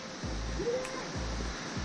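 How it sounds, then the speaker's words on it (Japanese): Waterfall on Mount Atago in Kyoto, heard as a steady broadband rush of falling water, close and continuous, with faint low thumps of footsteps on the trail. "わあ、クーヤの滝来ました"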